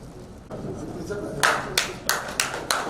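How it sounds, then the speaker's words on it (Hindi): An audience at an NGO function in a Jodhpur hotel claps in welcome for guests, a run of sharp, fairly close bursts of applause following a stretch of quieter murmuring. "एक बार जोरदार तालियों से स्वागत करेंगे"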